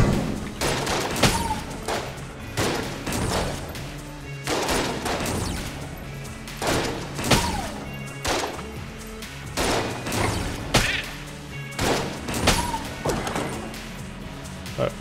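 Rapid, repeated shotgun blasts from the mass shotgun in the video game Enter the Gungeon, a dense barrage of crashing shots and impacts firing steadily throughout, loud and continuous with no pause.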